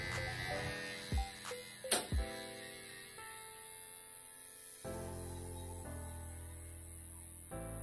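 Electric hair clipper buzzing while someone cuts their own hair in a home fade, a steady hum that shifts pitch as it moves over the head, with a few clicks and bumps midway.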